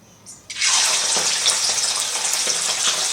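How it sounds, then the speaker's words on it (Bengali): Meat frying in leftover potato-frying oil, a loud steady sizzle that swells suddenly after a quiet start and holds continuously to the end, with no talking. "এই তেলটাতেই কিন্তু আমি এখন এই মাংসটা ভেজে নেব"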